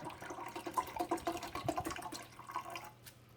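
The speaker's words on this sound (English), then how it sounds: "I'm going to pour the water in." Water is poured into the reservoir of a Keurig K-Duo coffee maker, producing a quiet, fluttering splash and gurgle that runs for about three seconds before tapering off, with no talking.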